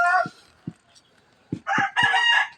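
A pet rooster gives a loud, close crow after a few short low clucks, its drawn-out call filling the final second.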